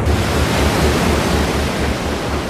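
A storm at sea: a gale roars with crashing waves, loud, dense and continuous, with a low pulsing surge beneath the windy wash.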